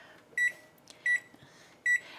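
An oven timer gives three short, identical electronic beeps at even intervals as the time is set for baking a sausage quiche, clear and close over a faint room hum.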